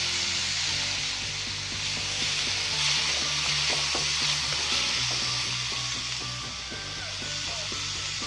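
Pork stir-frying in a pan with curry powder, a dense continuous sizzle close up with rapid spatula scrapes and taps running through it.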